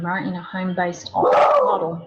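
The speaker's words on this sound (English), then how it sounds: "Excuse me, that's my dog." A pet dog barks and whimpers in a home in a few short bursts close by, overlapping a person who is speaking.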